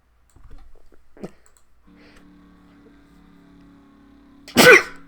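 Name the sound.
sneeze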